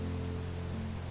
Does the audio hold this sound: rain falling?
yes